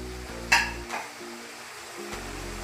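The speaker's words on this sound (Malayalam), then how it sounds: "എന്നിട്ട് നല്ലതായിട്ട് ഇളക്കി കൊടുക്കുക" Onion, tomato and dried red chillies fry in a pan as a spoon stirs them, giving a soft continuous sizzle with a sharp clink near the start and light scraping, close by and without speech.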